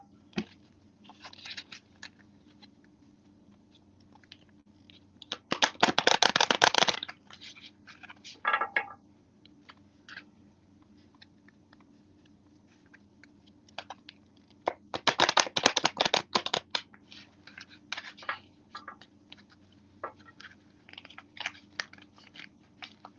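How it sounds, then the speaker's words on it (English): Tarot cards being shuffled during a card reading, two loud riffling bursts several seconds apart with scattered softer card taps and slides between them in a quiet room, no talk. "Okay, Yellow, I'm going to shuffle these cards."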